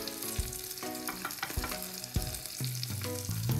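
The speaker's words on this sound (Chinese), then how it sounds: "翻转个头再煎另一面" Sticks of dried tofu skin fry in plenty of hot oil in a mini kitchen while homemade spicy strips are made; a steady, close, crackling sizzle runs throughout, with occasional stir and clink sounds and no speech.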